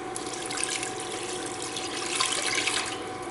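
Water poured into a cooking pot, about two and a half cups, as the base for a noodle mac and Alfredo soup: a steady, continuous splashing pour, fairly close, with no voices.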